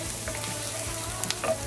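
Grated garlic sizzles steadily in a hot pan, a constant frying hiss with a few soft clicks of stirring near the end, with no one talking.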